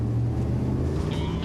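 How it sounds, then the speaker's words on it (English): A car cruising at 60 miles an hour, its engine a steady, loud low rumble with road noise, unchanging for the short stretch, while a voice speaks over it. "the car driving at 60 miles an hour"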